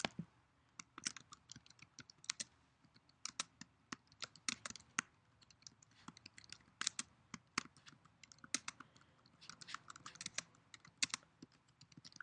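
Quick, light keystrokes on a computer keyboard patter in irregular bursts, close and fairly quiet, with no voice over them.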